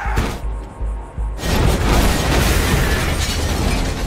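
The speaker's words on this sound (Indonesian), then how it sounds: "tiba-tiba saja mobil itu justru meledak dan melukai sang ayah." A car exploding during a test drive: a sharp loud blast bursts out after a quieter opening, followed by a sustained roaring, crackling rumble that fills the rest of the moment at close range.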